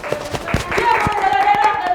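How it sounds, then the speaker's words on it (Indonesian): A small child clapping hands at home, a run of light, quick claps under a voice and other chatter nearby. "Oke, dia tepuk tangan dong."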